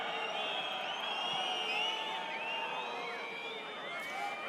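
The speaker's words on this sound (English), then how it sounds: "it hasn't quietened the La Rochelle crowd. It's incensed them" A dense, steady roar from a La Rochelle rugby crowd fills the stadium at a Top 14 match against Bordeaux Begles, with scattered whistles and shouts rising from the mass of voices.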